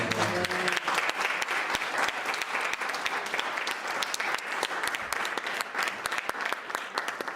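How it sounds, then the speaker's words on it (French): Church congregation at a Bible seminar clapping together in praise, a loud sustained rush of many hands that continues steadily after a brief voice at the start. "On applaudit le Seigneur."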